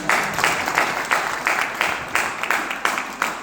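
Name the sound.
audience applause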